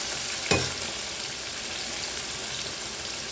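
Cornmeal-breaded okra frying in oil, a steady dense sizzle up close, opened by a single sharp knock of a slotted spoon against the pan as it is stirred.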